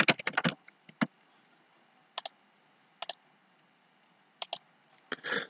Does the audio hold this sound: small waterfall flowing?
no